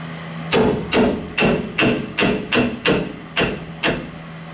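Eight sharp, ringing hammer strikes on metal during rear suspension work on a Bullnose Ford F150, evenly spaced and loud, each with a brief metallic decay.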